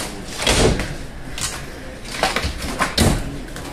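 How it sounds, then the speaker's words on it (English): Wooden doors on a 2021 Jayco Eagle HT 280RSOK travel trailer, Amish-made, are shut hard several times in a row, each producing a close, solid thud with a short rattle. "I like giving the doors a nice hard shut"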